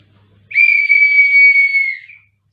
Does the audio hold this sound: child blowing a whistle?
yes